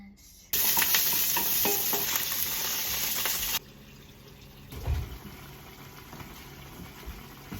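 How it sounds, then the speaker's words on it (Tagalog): Sardines sizzle loudly in a hot pan with scraping stirs, the frying hiss strong at first, then dropping to a softer crackle with occasional clanks of the utensil. "Luto tayo ng ulam sardinas."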